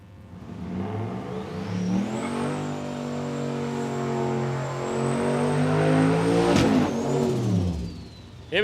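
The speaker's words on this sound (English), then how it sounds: "Oh, nice big smoky burnout, the Crown Victoria." A turbocharged LS-engined Crown Victoria at a drag strip roars at sustained high revs during a smoky burnout, holding a steady loud drone with rising pitch before dropping off near the end.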